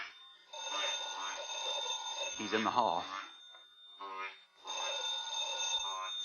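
Telephone ringing in a radio drama: a shrill bell ring that comes in bursts with short pauses between them, heard at moderate level while someone speaks briefly over it.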